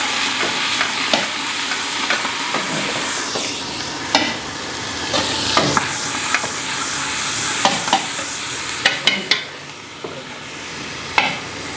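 A paste of ginger, garlic, mint, coriander and green chili sizzles steadily in a pan, loud and close. A spoon scrapes and clacks against the metal at irregular intervals. No one speaks.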